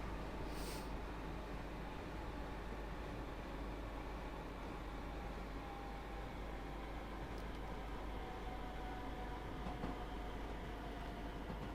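A simulated train runs in Train Sim World 2 near New Haven Town station as a continuous low rumble, faint and even, with no voices.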